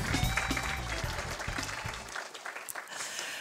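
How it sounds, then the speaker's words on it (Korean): An audience applauds a presenter at a Korean cybersecurity results presentation, steady dense clapping under a brief voice before fading to sparser claps. "다시 한 번 더 황보성 실장님께 큰 박수 부탁드리겠습니다."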